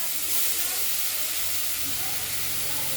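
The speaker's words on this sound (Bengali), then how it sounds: "তেলটা গরম হয়ে গেছে। আর সর্ষে ফুলের এই শাকগুলো আমরা কড়াইতে দেবো।" Mustard flower greens hit hot oil in a wok and set off a loud, continuous hiss that holds steady throughout, with no talking.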